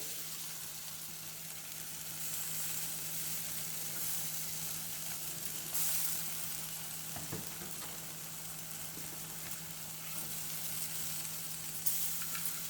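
Ground toor dal, black pepper, cumin and dried red chilli poured into a hot pan, a steady hissing sizzle that holds evenly throughout with a faint low hum beneath; no voices.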